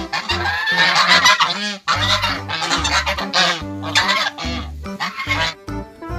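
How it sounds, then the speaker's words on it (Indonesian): A goose in the video game Jurassic World Evolution 2 honks loudly and repeatedly at close range, a series of harsh, nasal calls in uneven bursts with short pauses between them. "Wah, ada hewan angsa,"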